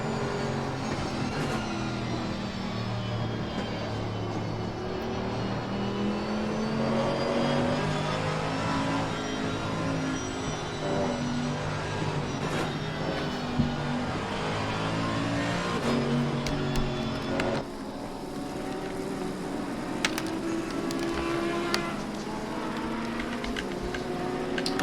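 Mercedes-AMG GT3 and Porsche GT3 race car engines howl at Suzuka in Assetto Corsa Competizione, a loud continuous roar with rising and falling revs, gear changes and cars passing, a dense pack of engines throughout.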